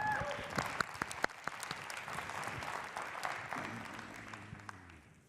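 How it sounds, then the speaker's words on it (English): An audience at a startup export challenge event applauds as a finalist comes up, a steady mass of clapping with a few sharp close claps, tapering off as a voice begins talking near the end. "Let's make sure we give a big round of applause."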